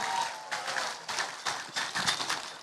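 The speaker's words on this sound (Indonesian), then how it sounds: "Tepuk tangan dulu dong." An audience at a live Islamic religious gathering claps in uneven bursts, a moderate, crisp patter of hands that rises and falls in short waves.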